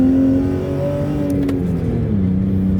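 BMW E39/E46 M54 engine with a converted intake manifold revs hard and steadily, a loud continuous drone with shifting pitch from the car spinning in second gear, no talk over it.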